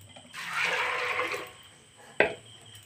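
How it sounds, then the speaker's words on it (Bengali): Water is poured into a pot of peas that have soaked since morning, in a village kitchen, as a short, soft splashing pour lasting about a second, followed by a brief clink. "একটু জল দেব"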